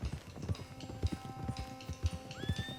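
Horses' hooves clip-clop in Red Dead Redemption 2, a steady rhythmic beat of several horses moving at pace, close and clear, with a faint whinny and a rising whistle-like tone near the end; no talking.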